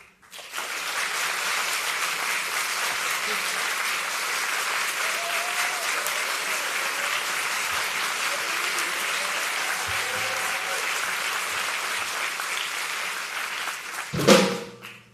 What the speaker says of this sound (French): On applaudit en fonction de si vous avez préféré cette start-up.